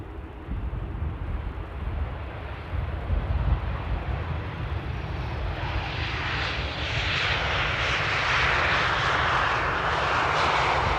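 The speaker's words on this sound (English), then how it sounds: "Dreamliner -9 coming in from Edmonton" A Boeing 787-9 Dreamliner arriving from Edmonton at Amsterdam Airport, its engine roar swelling gradually from a distant rumble to a loud, broad whine as it draws nearer.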